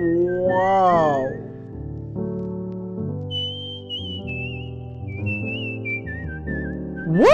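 High, wavering whistled melody in a song, carried over sustained backing chords and running through most of the stretch at moderate loudness.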